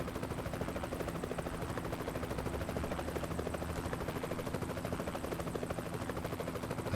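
A helicopter in American Truck Simulator, somewhere near the Grand Canyon, drones steadily from a distance, its muffled low rotor chop and engine hum constant and unbroken for the full stretch, with no talking.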